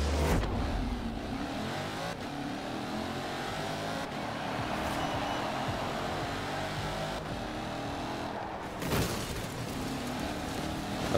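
A Maserati Levante with an eight-speed automatic drives in the racing game Forza Horizon 4, a steady engine drone and road noise with a couple of brief louder bursts.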